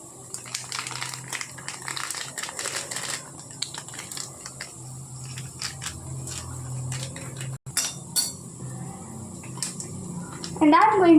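A spoon stirs and scrapes a potato burger mixture seasoned with pepper, chili powder, chaat masala and dry mango powder in a bowl, giving steady clinks and scrapes throughout, with a louder clatter near the end and faint voices in the background.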